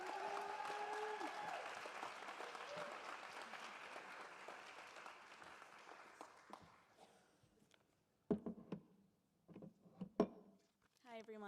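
An audience at a university drama school graduate commencement ceremony gives sustained, steady applause to welcome a speaker, then it fades out, leaving a few footsteps and small thumps as she reaches the stage.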